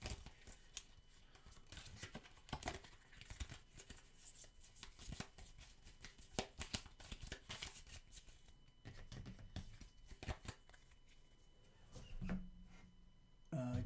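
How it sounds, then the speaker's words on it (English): Cards from the Alien: Fate of the Nostromo board game are shuffled by hand, making a soft, continuous riffling and flicking crackle that stays fairly quiet and close throughout. "I do shuffle these"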